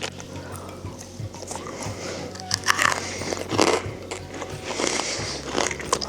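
Cadbury Pascal Clinkers, chocolate-coated colorful candy, bitten and chewed close to the mic, a series of crisp crunches and wet chewing over a few seconds with no talk.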